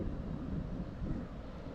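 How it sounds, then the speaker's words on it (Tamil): Wind blows outdoors during rain and buffets the microphone, giving a continuous low rumble that stays fairly loud throughout. "காற்று வேற அடிக்குது."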